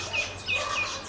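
A hen sits nearby among many small birds, giving a few faint, short high chirps spread across a moment, quiet and somewhat distant with no talking.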